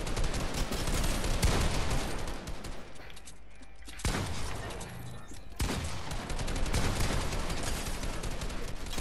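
Rapid weapon fire in the Fortnite video game, dense close bursts of shots that pause briefly in the middle before resuming loudly.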